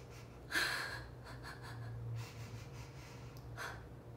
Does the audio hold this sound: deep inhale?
yes